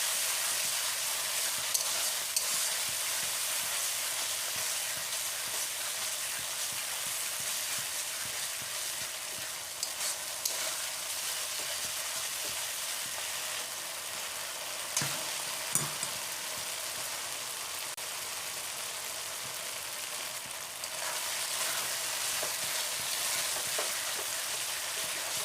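Spices with turmeric fry in a pan for Bengali chicken kosha, giving a continuous, even sizzle with occasional faint stirring scrapes, close and unbroken, with no voices.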